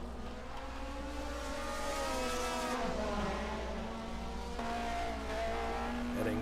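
1980 DRM Division 2 race cars at the Eifelrennen rev hard, engine notes climbing and falling through gear changes, with a second car's note overlapping as they run close, loud and continuous from start to finish.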